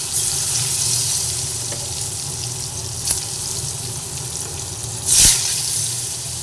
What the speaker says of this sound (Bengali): প্রথমে আলুগুলোকে ভেজে নিচ্ছি